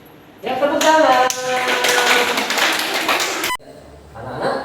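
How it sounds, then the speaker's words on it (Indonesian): Classroom children clap their hands together in a burst of loud, fairly rhythmic claps that stops abruptly, followed by a short quieter stretch of room sound. "Ya, tepuk tangan."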